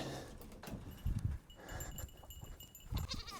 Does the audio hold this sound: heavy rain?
no